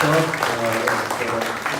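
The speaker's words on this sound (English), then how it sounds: "Round of applause for Zane and Blockidex." Audience applause at a small business pitch gathering, moderately loud and continuous, with someone talking over the clapping.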